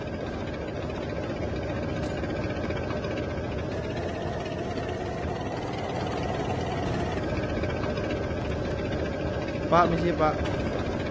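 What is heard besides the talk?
tank engine in Call of Duty Mobile video game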